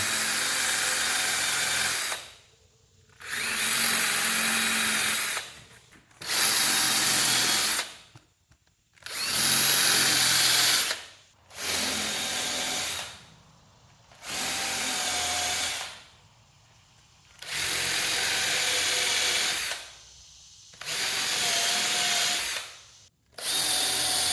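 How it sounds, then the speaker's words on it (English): Power drill with a taped spade bit countersinking holes in timber for a timber-frame style kitchen remodel, whirring in about eight steady, evenly spaced bursts separated by short pauses, loud and close with no talk. "I put some blue painter's tape on the spade bit so that we don't countersink it too far."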